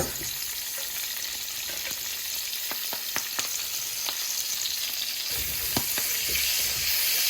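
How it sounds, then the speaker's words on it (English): Dark cabbage greens sauteing in bacon drippings in a pan, a steady close hiss of frying with scattered crackles and a burst of louder sizzle near the end, no talk. "I'm going to add our dark greens"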